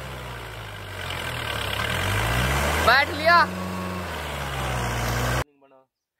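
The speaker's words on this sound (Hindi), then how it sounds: "बढ़िया चल रहा ट्रैक्टर तो।" A tractor engine idles steadily with a low droning rumble, up close, while people talk over it; the engine runs on unloaded between ploughing work.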